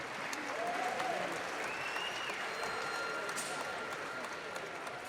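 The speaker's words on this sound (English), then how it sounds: "let's have a big round of applause, please, for both of the fighters in the center of the ring" A boxing arena crowd applauds both fighters in the center of the ring, a steady wash of distant clapping and crowd noise with faint whistles rising over it.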